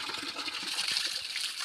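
Water gushes from a village water spout in the monsoon, a soft continuous splashing stream heard close but fairly faint, with no voices.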